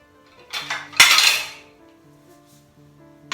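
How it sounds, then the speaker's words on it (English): A knife cuts into a pear pie with a few short scraping and clinking touches against the plate, close and fairly loud, one strong burst in the middle, over soft background music. "And now I cut the piece out of the cake."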